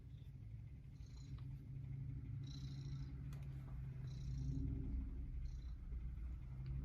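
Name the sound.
cat purring near the microphone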